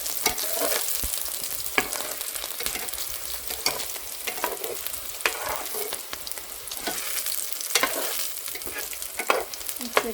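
Meat cooking in a pot for a Pakistani-style meat pilau, a steady close sizzle with frequent scraping stirs of a spoon against the pot, no talking.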